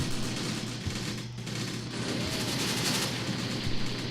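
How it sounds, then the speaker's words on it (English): Gunfire in the war video game Graviteam Tactics during a rebel ambush on government troops, dense bursts of shooting over a constant rumbling engine drone. "Start firing, man."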